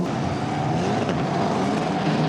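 Formula Regional race cars run through turn 1 during a championship round, a steady, dense engine roar blending several cars at moderate distance, continuous with no pauses or talking.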